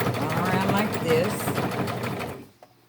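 A sewing machine stitching a denim jeans hem runs steadily with a fast mechanical whir and rapid needle rhythm, close and loud, then stops abruptly near the end.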